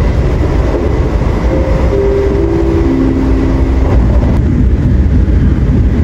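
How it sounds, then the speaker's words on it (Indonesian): Loud, steady rumble of a Yogyakarta–Gambir train rolling close by as it arrives at Kebumen station, with a few sustained squealing brake tones as it slows, and no voices. "Kereta api tambahan Jogja Gambir memasuki pemberhentian berikutnya, stasiun Kebumen."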